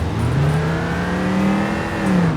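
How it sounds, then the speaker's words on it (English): A diesel engine in an AW T-Wagen van in the BeamNG driving game pulls steadily under acceleration, its droning tone climbing gently. It stays loud and continuous throughout, with no talking. "I love the sound of the engine when you accelerate"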